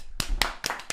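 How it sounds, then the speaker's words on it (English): A handful of sharp, close hand claps from a few people in a podcast studio, four distinct irregular slaps within under a second. "keep the applause going"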